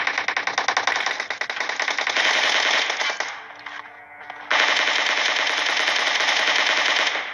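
Rapid automatic gunfire from a battle royale shooter game rattles loud and continuous, pauses briefly for a quieter moment, then resumes in another sustained burst to the end.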